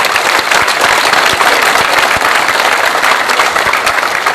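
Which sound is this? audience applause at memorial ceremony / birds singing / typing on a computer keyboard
audience applause at memorial ceremony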